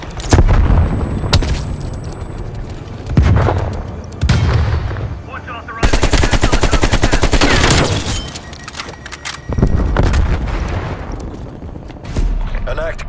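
A frag grenade explosion and heavy gunfire in Call of Duty Black Ops Cold War team deathmatch: loud, dense booms and rapid bursts of shots come in repeated waves, with in-game voices shouting between them.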